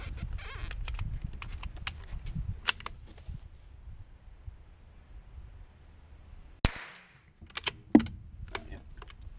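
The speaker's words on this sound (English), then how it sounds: "2 shots." Two sharp shots from a .22 small-arms firearm being test-fired, loud and isolated transients standing out over a low, quiet background hum.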